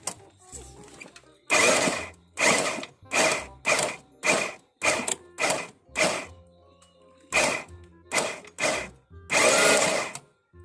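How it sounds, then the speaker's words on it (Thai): Repeated bursts of harsh mechanical scraping as a fan rubs against a black plastic body panel, starting and stopping in uneven pulses with brief quiet gaps. "พัดลมมันขูดกับชุดสีนะครับ มันขูดกับชิ้นดำ"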